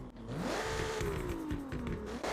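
A Ferrari F80's V6 engine in Forza Horizon 6 whines up in pitch, holds, then drops back, a sharp racing-car sound with a synthetic, game-like quality.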